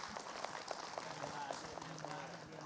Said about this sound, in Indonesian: Tepuk tangan buat Habib Muhammad Syahab